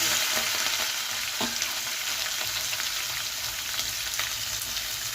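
Seeds and curry leaves frying in hot oil as a tempering for potato tomato curry, a constant close crackling sizzle with a few faint spoon stirs.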